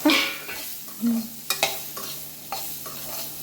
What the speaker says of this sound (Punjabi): ਇਹਦੇ ਵਿੱਚ ਹੁਣ ਮੈਂ ਥੋੜੇ ਜਿਹਾ ਭੁੰਨੂੰਗੀ ਪਿਆਜ਼